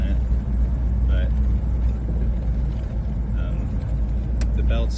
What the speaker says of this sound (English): Driving the C5 right now, just taking it for a little stroll around the neighborhood.